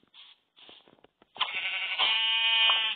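Sheep in the Minecraft video game bleat close up: a few short, choppy calls, then a longer, louder and more sustained nasal bleat that fills the second half.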